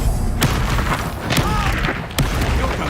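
Confringo spell blasts in the Hogwarts Legacy video game, loud booming bursts that land several times in quick succession over a rumbling combat soundscape.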